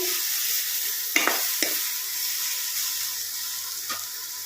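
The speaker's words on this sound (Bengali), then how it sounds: "এবার খুলে এটাকে একটু নাড়িয়ে চাড়িয়ে দিচ্ছে" Lightly salted watermelon rind cooking in a pan just uncovered, giving off a loud, even hiss of sizzling close by, with three or four brief spatula taps as it is stirred and no one speaking.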